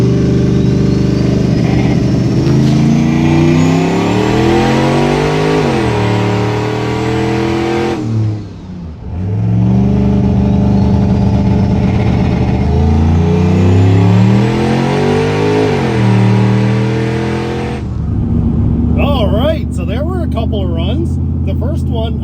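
A car launches on two back-to-back 0-60 runs, the engine roaring loud and close, pitch climbing through each gear with sharp drops at shifts, a short lull between runs.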